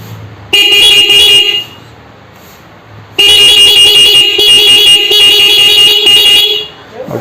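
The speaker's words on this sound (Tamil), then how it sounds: "ஹார்னை செக் பண்ணிப்போம்." A loud electronic melody maker car horn plays a bright melodic tune in two bursts, a short one then a longer sustained run, close and alone.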